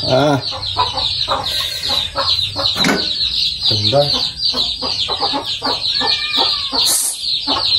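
Chickens cluck and squawk nearby throughout, busy and fairly loud over a high steady hiss, while people talk briefly among them.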